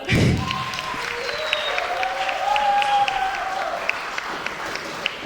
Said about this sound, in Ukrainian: Прошу оплески.